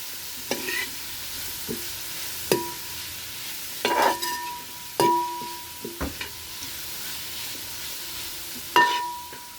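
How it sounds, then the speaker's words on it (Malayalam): Spice powders with salt and turmeric being sautéed for a roasted-coconut chicken curry, a soft frying hiss broken by a few sharp scrapes and clinks of a spoon against the pan, spaced irregularly, with no voices. "പിന്നെ പൊടി ഒരു നിറം വരാൻ വേണ്ടിയിട്ട് എല്ലാമൊക്കെ വഴറ്റിയെടുക്കാം."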